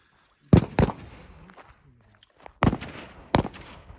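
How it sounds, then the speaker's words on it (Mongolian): Four sharp, loud gunshots crack out at a firing range: two close together, a pause, then two more spaced apart, each leaving a brief echoing tail. "За энд нэг хүн буудлага гэж байна."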